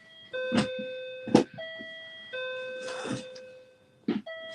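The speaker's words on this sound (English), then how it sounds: "That's what a Japanese doorbell sounds like" A two-tone Japanese electronic doorbell chime rings twice in succession, clear and moderately loud, with soft rustling between the tones.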